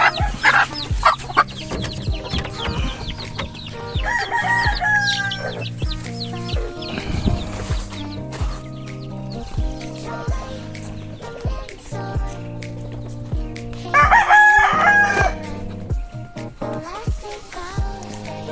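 A native chicken rooster clucks repeatedly in short, close bursts, with louder squawking or crowing outbursts about a quarter of the way in and again near the end.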